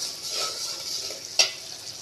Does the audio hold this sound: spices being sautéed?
yes